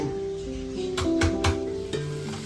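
Chicken and aromatics fry in a pan with a steady close sizzle, broken by a few brief bright spatters and stirring clatters over a low background hum; no one talks.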